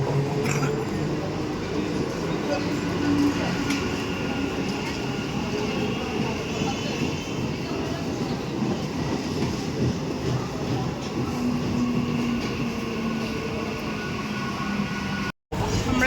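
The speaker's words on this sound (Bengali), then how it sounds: "ট্রেন ঢুকবে এখনই।" A crowded Kolkata local train pulls in at a busy suburban station on a Monday, a long, steady rumble with some wheel clatter and squeal, under constant platform chatter from the crowd.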